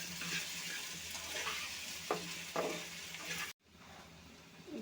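Garlic paste with ginger paste fries in hot oil in a pan while being stirred, giving a steady close sizzle with a few spoon scrapes before cutting off abruptly near the end.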